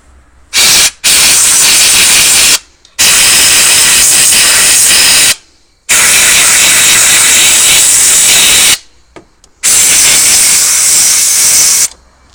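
A compressed-air blower cleans around the glow plugs on a Mercedes 2.2 CDI engine, sending out loud, close bursts of hissing air in several blasts of a few seconds each, separated by short silences.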